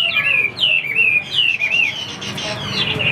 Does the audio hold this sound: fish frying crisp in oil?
no